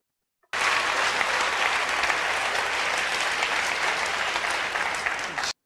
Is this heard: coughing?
no